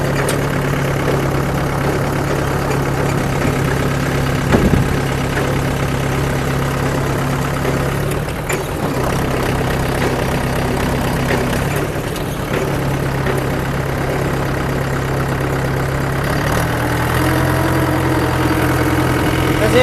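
A stuck tractor's engine idles steadily and loudly up close, a continuous low rumble with slight uneven knocking and no voices.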